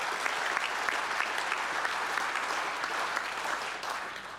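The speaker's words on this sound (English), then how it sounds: "What about a round of applause for all 18 of our judges?" Steady applause from an audience at an innovation awards ceremony, honouring the eighteen judges, a dense even patter of clapping hands filling the room for several seconds.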